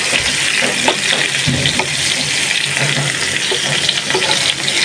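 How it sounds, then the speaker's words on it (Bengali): Koi fish sizzle and crackle as they fry lightly in hot oil, a steady dense hiss that stays loud and close throughout, with soft scraping and stirring sounds now and then and no talking. "এখন মাছগুলো বেজে নিতেছি মাছগুলো হালকা বাজবো"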